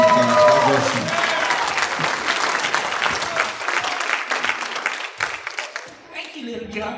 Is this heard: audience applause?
yes